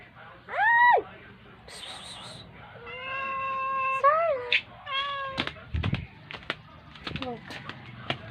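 A small, cute cat that keeps following a person meows repeatedly up close, with several drawn-out, loud mews spread over the stretch, then lighter sounds and a person talking between them.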